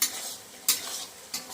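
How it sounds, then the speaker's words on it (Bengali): Spice paste with chickpeas and prawns stir-fried in a pan for a pumpkin and Malabar spinach ghonto, a steady close sizzle broken by two sharp scraping stirs of the spatula. "ভালো করে কষিয়ে নিতে হবে।"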